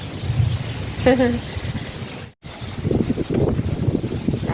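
Wind and rain move in over a rural spot, a broad rushing hiss beneath someone speaking, briefly cut out, then returning with steady noise.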